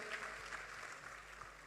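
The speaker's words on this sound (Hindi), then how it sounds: "जोरदार तालियां" A festival audience at a comedy show claps steadily in a dense, even wash of applause, heard faint and at a distance throughout.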